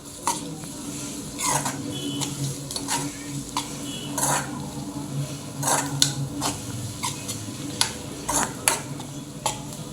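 Ginger garlic paste being stirred into a chicken and egg curry: a spoon scrapes and clinks against the pan in repeated strokes over a soft, steady sizzle.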